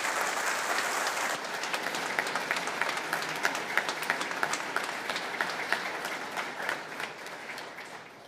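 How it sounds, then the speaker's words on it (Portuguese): A church congregation at Sunday Mass gives a big round of applause for the adolescents, a broad, sustained clapping that fills the room and tapers slightly toward the end. "A estes adolescentes damos uma grande salva de palmas."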